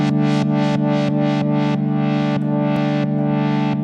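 A sustained distorted guitar tone with a rhythmic, evenly pulsing effect sweeping in regular beats, loud and steady, no voices.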